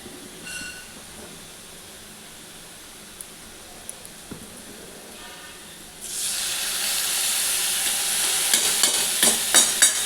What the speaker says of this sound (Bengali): এখানে ডাল ফুটছে।